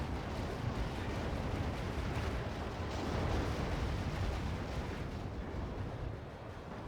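A dense, continuous rumble of distant explosions and heavy booms in the strategy video game Act of Aggression, as a base is destroyed, blends into one sustained roar, with no distinct individual blasts.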